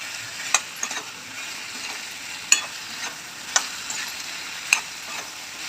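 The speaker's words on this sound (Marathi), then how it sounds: "आता बारीक चिरलेला आळू टाकून घेते मिक्स करून घेऊया" Finely chopped colocasia leaves fry softly in a pan with a quiet, continuous sizzle, broken by a few sharp scrapes and taps as they are stirred.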